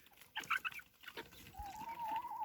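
High, thin peeping calls from small chickens' chicks, a few short chirps followed by a longer trill, fairly close with light background noise.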